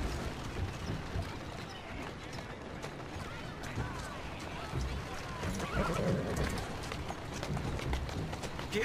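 A horse in Assassin's Creed Syndicate whinnies while its hooves clip-clop at a run, set against a dense, steady bed of game ambience throughout.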